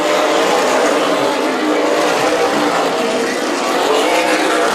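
Race cars scream past at Stockton 99 Speedway, a loud, continuous roar of high-revving engines that swells and fades slightly as the pack circles the track.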